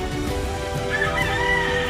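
A native free-range rooster crows in a long drawn-out call, mid-distance and clear, over a steady busy background of farmyard noise.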